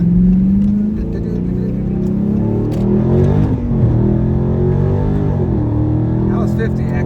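A powerful car revs hard and accelerates with tires spinning, a loud sustained engine roar with rising and falling pitch sweeps across the whole stretch, close by and dominant.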